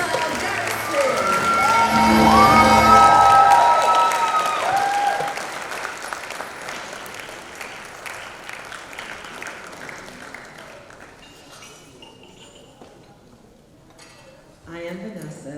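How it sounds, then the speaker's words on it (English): Audience applause at a social innovators awards event, loud dense clapping with a cheer or whoop that peaks early and then thins out gradually to scattered claps before fading, followed by a brief burst of sound at the end. "join me in welcoming with a rousing applause the delectable Vanessa Garrison"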